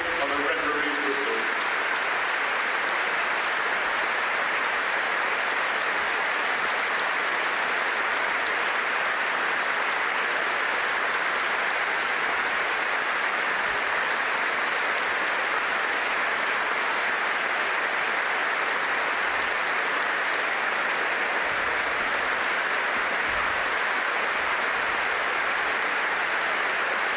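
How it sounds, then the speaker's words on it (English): A minute's applause at a football stadium during an Ipswich Town versus Aston Villa Premier League match, heard as steady, sustained crowd clapping filling the whole stretch with a broad even roar, with no voices over it. "A minute's applause in tribute to David will now be held, starting and ending on the referee's whistle."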